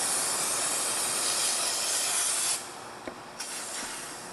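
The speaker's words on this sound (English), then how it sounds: "I'm going to wash this down a little bit with brake cleaner." Brake cleaner sprays from an aerosol can onto parts of a 2002 Pontiac Montana engine during an AC compressor replacement, a loud, close hiss for about two and a half seconds followed by a quieter spritz.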